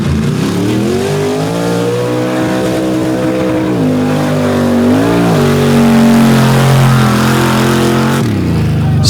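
A Chevrolet S10 short-wheelbase mud racing truck revs its engine hard at a mud-slinging event, a loud, close roar rising and falling in pitch with steady gear-like shifts across nine seconds.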